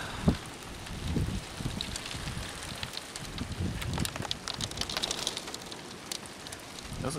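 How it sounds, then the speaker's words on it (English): Hail pellets falling outdoors, a continuous dense patter of small hits against surfaces, with some wind noise on the microphone and no talking. "I can't believe how many days it's been hailing"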